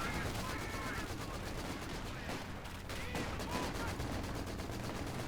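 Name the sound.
Vickers machine gun fire in video game Company of Heroes 2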